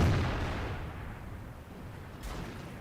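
In World of Tanks, a heavy tank cannon shot booms and strikes an enemy tank's tracks, a deep rolling blast fading into low rumble, with a second faint thud near the end.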